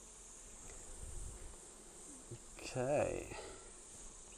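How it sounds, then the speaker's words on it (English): Honeybees buzz in a steady, close drone around an open beehive as the frames are handled, and a voice speaks briefly partway through. "there is bees crawling all over the bottom of this one"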